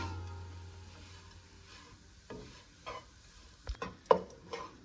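Ground lentils roasting in a pan for paruppu usili with carrot and beans, a faint steady sizzle broken by a few scraping stirs and a clink of the spatula toward the end.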